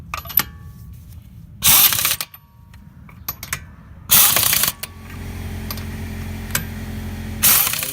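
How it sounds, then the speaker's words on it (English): A ratchet tightens the wheel nuts on a Toyota in three short, loud whirring bursts separated by quieter clicks and workshop rattles. "now we tighten up the wheels"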